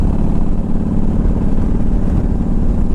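A 2000 Harley-Davidson Ultra Classic motorcycle engine revs loudly and close up, giving a throbbing V-twin pulse that holds steady for a few seconds with no talking.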